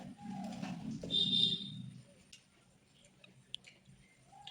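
Close, wet squishing and chewing of a softened pickled fruit with kanthari chilies, loudest in the first two seconds and then fading to quiet mouth sounds with a few faint clicks.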